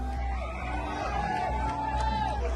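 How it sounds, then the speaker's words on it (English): Supporters at a Kirk event before his appearance, a crowd of about 3,000 chanting and shouting together in a steady, dense roar that fills the space with no pause. "Supporters start chanting Kirk's name ahead of his appearance."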